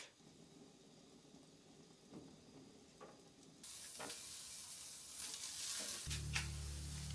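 Burgers and corn on the cob sizzle and hiss faintly on a camp cook-up, with soft scrapes and taps. The frying grows louder and brighter midway through.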